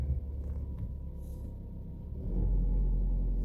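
A Ford Focus with a newly replaced transmission control module hums at a low, steady idle, then the rumble grows deeper and louder as the car starts rolling backward, close by.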